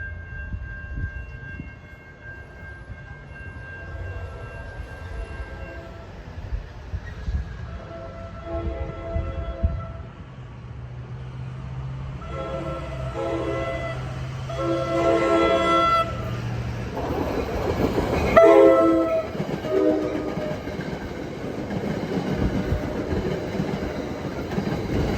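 A southbound New Jersey commuter train running from Penn Station to Bay Head rumbles past over about twenty-five seconds. Its horn sounds in several tonal blasts, with rail clatter building toward a loud peak near the end.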